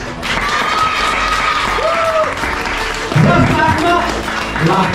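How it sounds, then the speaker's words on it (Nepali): An audience applauds at a Gorkha dance audition: steady, dense clapping fills the hall at close range, with voices and a brief announcer's call mixed into the crowd noise. "सबैले जोरदार ताली"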